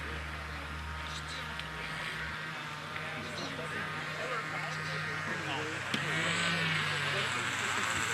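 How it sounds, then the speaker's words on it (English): A heavy-lift radio-controlled model airplane circles at a collegiate aero design competition airfield, its propeller engine droning steadily throughout, with a crowd and commentary voices talking over it. "Bringing heavy aircraft around."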